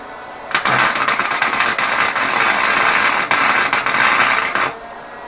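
Welding a motor mount onto a Schwinn Stingray OCC-style chopper frame: a loud, steady crackling arc buzz that starts abruptly, runs about four seconds with slight flickers, then cuts off.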